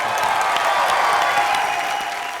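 A studio audience at a live comedy talk show bursts into loud, sustained applause with some cheering, a dense continuous crowd roar filling the room.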